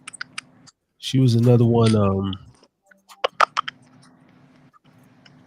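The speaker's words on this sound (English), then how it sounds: "you got some like clicking going on over there" Clicking noises on a call participant's line, a scatter of sharp short clicks around a stretch of speech, fairly close and at moderate level.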